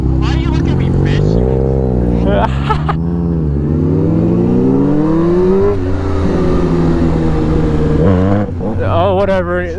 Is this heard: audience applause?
no